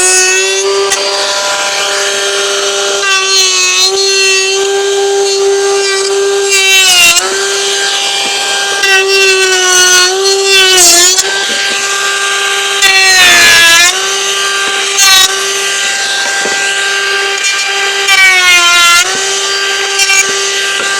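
Battery-powered tool cutting bevelled edges along a wooden fence-capping offcut, a loud, steady high whine with tonal harmonics that dips briefly several times as the cut progresses, running alone throughout.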